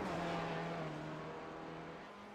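Race car lapping Detroit's Belle Island circuit in a sim racing game, a steady engine drone with a sustained tone that fades slightly over a couple of seconds.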